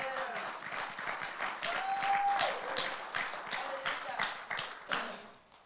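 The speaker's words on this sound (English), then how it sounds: "We didn't give Jesus a clap offering this morning." A church congregation claps together in a scattered, uneven patter of hands, moderately loud and rising and falling, with voices murmuring underneath.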